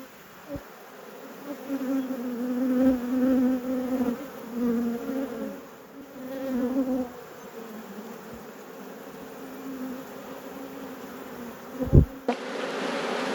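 Honey bees buzz around an open hive in an apiary, a close, wavering drone that swells and fades as individual bees pass near, with a couple of sharp knocks and a brief burst of noise near the end.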